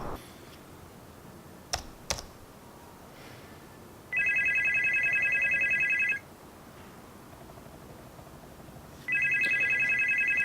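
A telephone rings in two long electronic bursts separated by several seconds of quiet, with faint clicks and taps in the background.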